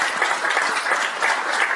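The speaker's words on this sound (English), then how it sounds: "We should applaud all that." Brief applause from an audience at a campus forum, a short burst of clapping heard for under two seconds.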